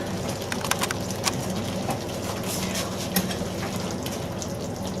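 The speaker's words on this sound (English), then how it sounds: "while that's sizzling along" Cottage pie filling sizzling steadily in a pan on the stove, a soft continuous frying hiss with small crackles and pops, close and fairly quiet with no talk.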